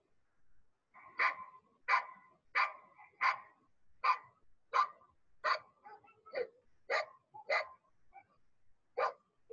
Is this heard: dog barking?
yes